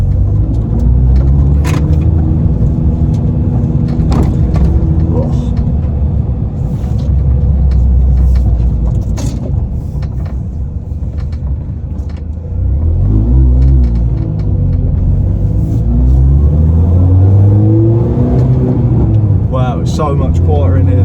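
A Mini Cooper S R53 drives along with a loud, close engine rumble inside the cabin, rising and falling as it accelerates through the gears, while people talk over it.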